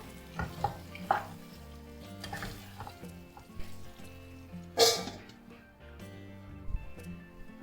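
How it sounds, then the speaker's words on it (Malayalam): Peshawari chicken seasoned with salt sizzles and bubbles steadily in a covered kadhai, a close, continuous frying hiss with occasional sharper pops and clinks over faint background music. "എന്നിട്ട് നമുക്കിതൊന്ന് 5 മിനിറ്റ് അടച്ച് വെച്ചിട്ടൊന്ന് വേവിക്കാം."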